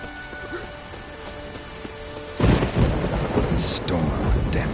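A thunderstorm in The Witcher video game: steady rain hisses throughout, then a loud, close thunder crash breaks in around midway and rumbles on over the continuing downpour.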